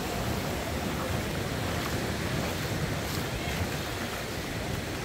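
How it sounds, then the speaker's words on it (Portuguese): Ocean surf on a beach in Recife, a steady, broad wash of waves with wind noise over the microphone, continuous and fairly loud throughout without distinct breaks. "O som do mar, que é muito relaxante"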